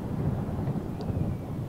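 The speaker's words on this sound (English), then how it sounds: "And there was the thunder." A low, continuous rumble of rolling thunder in Microsoft Flight Simulator fills the scene, steady and heavy with a faint rain-like hiss above it.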